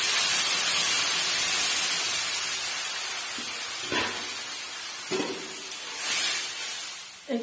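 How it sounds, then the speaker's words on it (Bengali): Water poured into cauliflower and potatoes frying in a pan sets off a loud, broad hiss of steam that slowly fades, with a few soft knocks from the pan near the end. "আমি এবার এর মধ্যে জলটা দিয়ে দেবো"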